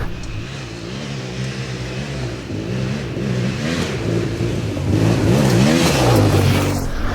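A lightened car with an extended wheelbase revs freely at high engine speed, a loud, close, rising and sustained engine roar that climbs steadily in pitch and volume without any talking.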